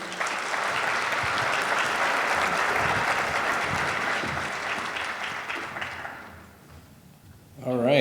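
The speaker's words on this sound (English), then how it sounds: "Let's give a round of applause, please." An audience at an HR summit and client workshop claps loudly and steadily for about six seconds as a speaker is welcomed to the stage, then the clapping thins and fades out, and a voice begins at the very end.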